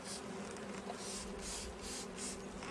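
Short bursts of a spray bottle misting sugar water onto an empty beehive frame holding a little wax, several soft hissing puffs close by over a steady low hum of bees.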